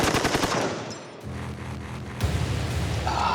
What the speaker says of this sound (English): The muzzle blast from the M60 blew the powder completely off the floor before it even had a chance to light it.